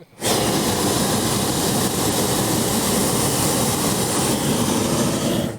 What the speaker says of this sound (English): If you want to hit the burner, Julie.